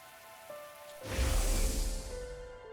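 Rain falls steadily in the video game Last Defense Academy, a soft patter that swells into a heavier, fuller downpour partway through, heard alone with no voices.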